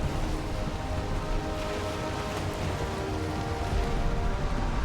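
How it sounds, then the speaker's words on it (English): Dense, steady rain from a storm while sailing in the Viking survival game Valheim, a constant hiss with low rumbling underneath, loud and unbroken throughout. "Of course, we set sail straight in the middle of a storm."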